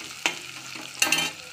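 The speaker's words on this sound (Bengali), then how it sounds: "আমার পেঁয়াজটা ভাজা হয়ে গেছে," Onions frying in a pan for Bengali mutton kosha give a soft sizzle, broken by two brief stirring scrapes, close and moderately loud with no talk.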